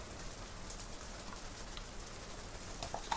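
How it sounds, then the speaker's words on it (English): Heavy rain drums on the roof of an art studio, a steady dense hiss of drops heard from indoors, fairly faint, with no talking. "the rain is coming down really heavy in the studio today"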